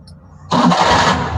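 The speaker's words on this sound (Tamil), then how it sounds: "ஸ்டார்ட் பண்ணிட்டு பாருங்க, ஒரே ஸ்டார்ட் தான்" A 1999 Maruti Omni van engine, running on LPG, cranks and catches abruptly, then settles into a loud, steady running rumble; faint background noise precedes the start.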